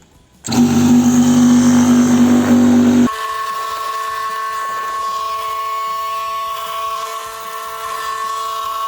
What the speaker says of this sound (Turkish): bu bizim kendi salça makinemiz. Burada çekmeye başlayacağız.